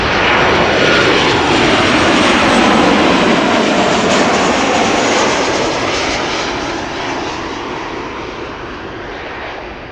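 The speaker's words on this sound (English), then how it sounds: "Floaty landing." A 13-year-old KLM Boeing 737 from Dublin landing at Amsterdam Schiphol, a loud broad jet engine roar that stays close and steady, then slowly fades a little over ten seconds.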